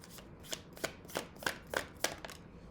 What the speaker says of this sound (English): I shuffled this deck quite a bit